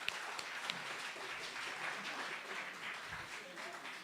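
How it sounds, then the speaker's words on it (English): An audience at a youth event applauds, a continuous spread of clapping at moderate distance, fairly faint, with scattered voices and cheers mixed in. "Can you please give yourselves a round of applause?"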